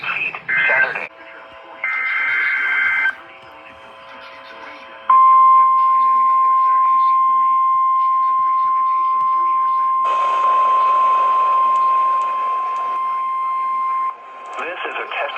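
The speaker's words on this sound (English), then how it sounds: "The attention signals you just heard will automatically activate special receivers to warn of the impending hazard" A NOAA Weather Radio warning alarm attention signal: a loud, steady electronic tone held for about nine seconds, preceded by short beeping bursts and a synthetic broadcast voice.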